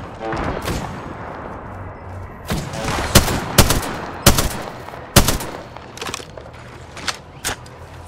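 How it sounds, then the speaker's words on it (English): Video game gunfire in a sci-fi shooter: a dense scatter of shots with several sharp, loud cracks and bursts over a continuous rumble, close and forward, with no talking. "I'm getting shot at"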